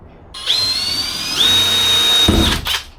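Power drill boring out rivets for a Honda CRX sunroof delete plate, two close, loud high-pitched whining bursts with grinding as the bit bites through the metal, ending in a rattling clunk.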